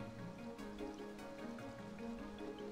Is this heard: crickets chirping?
no